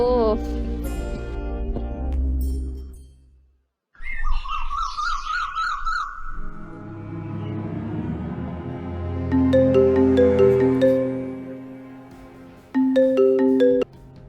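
A mobile phone rings unanswered, playing a melodic ringtone of bright repeating tones and a warbling, siren-like passage that stops briefly and then resumes, fairly loud and close.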